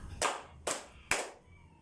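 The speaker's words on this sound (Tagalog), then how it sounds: "Bigyan natin sila ng 3 palakpak" Three sharp, evenly spaced claps from a class in a classroom teaching demonstration, each crisp and unison, then quiet.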